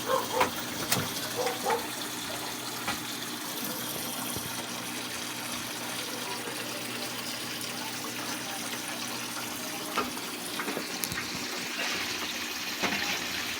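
Continuous rushing water, a steady broadband gush that holds level throughout, with a few brief clanks and knocks on top.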